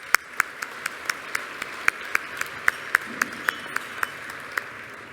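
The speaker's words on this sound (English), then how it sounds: "Let's have a round of applause for our sponsors." Applause from a small audience at a corporate community report event, heard as sparse, separate claps in an irregular rhythm over a quiet room, fairly distant and light.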